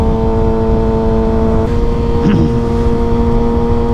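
A 2023 Kawasaki ZX6R sport bike running on the street, its engine giving a steady, loud drone that climbs briefly in a short rev partway through, heard close with wind rush behind it.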